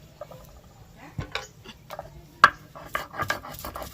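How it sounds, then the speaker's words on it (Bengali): Ginger and garlic are ground into a paste for handi chicken cooked in a clay pot over a wood fire, heard as scattered scraping, knocking and rubbing strokes, fairly quiet and uneven. "আদা রসুনটাকে একসাথে বেটে নেব"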